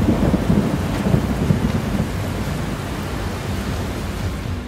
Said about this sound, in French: la pluie est tellement forte qu'elle résonne partout dans la montagne